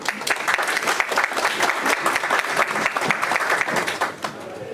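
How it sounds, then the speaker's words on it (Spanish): An audience at a legal conference applauds, dense sustained clapping from a crowd throughout that fades slightly at the end. "Le brindamos un fuerte aplauso."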